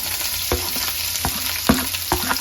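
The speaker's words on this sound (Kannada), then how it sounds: "ಈಗ ಈರುಳ್ಳಿನ ಫಸ್ಟ್ ಫ್ರೈ ಮಾಡ್ಕೊಳ್ಳೋಣ ಸ್ವಲ್ಪ." Spring onion frying in oil with mustard seeds and curry leaves, a steady close sizzle broken by several sharp stirring scrapes spaced through the pan.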